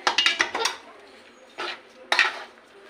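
Semolina mixed with water stirred in a bowl, opening with a quick run of clattering spoon strokes against the bowl, then two more separate scrapes after a short pause.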